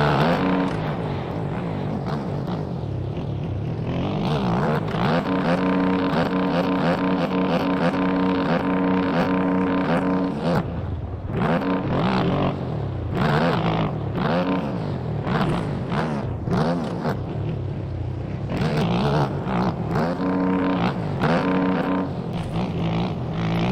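Motocross bike engines in the MX Bikes video game snarl through supercross laps, a continuous loud buzzing whine that rises and falls with throttle and gear changes, dipping briefly midway before revving hard again, no talk.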